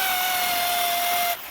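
A power drill fitted with a wire wheel runs at steady high speed while restoring an old hammer, a loud, close, continuous whine holding one pitch before cutting off near the end.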